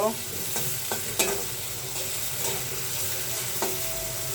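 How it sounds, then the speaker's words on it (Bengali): Onions soaked in raw water frying in oil in a pan, a steady close sizzle with a few sharp clicks and scrapes from stirring, no voices. "পেঁয়াজ কাঁচা জলটা তেলের উপর ভালোভাবে ভেজে নিব"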